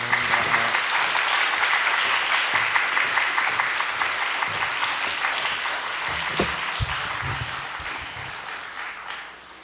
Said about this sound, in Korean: 우리 또 박수로 우리 맞이하겠습니다